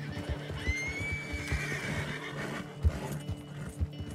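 A horse in Red Dead Redemption 2 gives a loud, high whinny lasting about a second, close by, with scattered hoof clip-clops and thuds continuing underneath.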